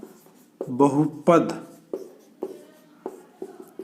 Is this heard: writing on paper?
yes